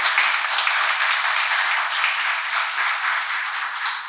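An audience claps steadily, a dense wash of applause that stays fairly loud and even for the whole stretch, with no voices.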